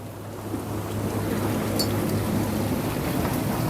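Maple sap boils hard in an evaporator during the first boil of the season, a steady, loud, rushing bubbling hiss with splashing and no voices.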